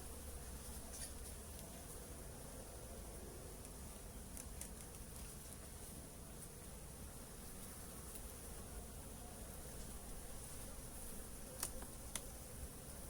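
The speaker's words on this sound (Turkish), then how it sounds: "Arı biraz huysuz." Steady insect buzzing throughout, a dense hum of many honey bees close by at an open hive, with a few faint clicks and taps near the end.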